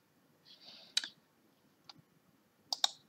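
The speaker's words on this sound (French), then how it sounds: "on clique sur Submit" Mouse clicks on a Submit button while setting up a presence sensor in Jeedom home automation software: a soft click near one second, a fainter one near two, then a quick double click at the end, alone in a quiet room.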